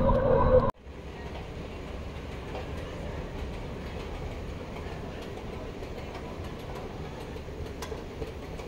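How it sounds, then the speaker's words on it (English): Metro train inside a station in Doha, Qatar: after a loud opening burst, a steady rolling rail rumble and hum fills the space, with light rattles and clicks and no voices. "So that's me inside metro station."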